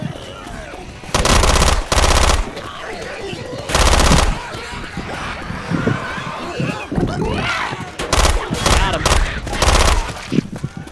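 Gunfire in Left 4 Dead 2, several loud automatic bursts interrupted by pauses, with quieter scattered shots and players shouting over the action.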